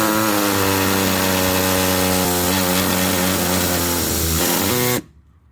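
A small pneumatic air tool, used with a socket to cut through a corroded brake line nut on a vehicle, whines steadily and loudly for about five seconds with a slight pitch wobble, then stops abruptly.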